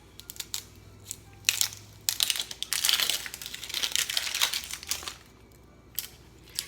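Dry, papery onion skin is peeled off by hand, giving close crinkling and crackling bursts that come in clusters with short pauses.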